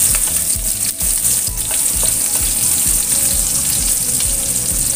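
Shallots and garlic fry in a hot pan for an Indonesian tempe and salted fish coconut-milk vegetable dish, a loud steady sizzle close by, broken by regular scraping and stirring strokes.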